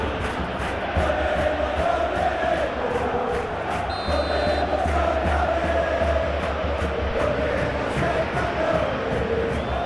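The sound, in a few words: annoyed football stadium crowd in video game match simulation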